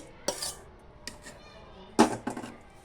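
Varagu rice pongal being stirred in a kadai brings a few scattered metallic clanks and scrapes of a spoon against the pan, two louder bursts standing out over a quiet background with no talking.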